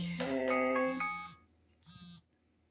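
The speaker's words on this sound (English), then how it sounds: "don't mind if alarms are going off." An alarm goes off indoors with a faint, ringing electronic tone that plays for over a second, then returns in one shorter burst before fading out.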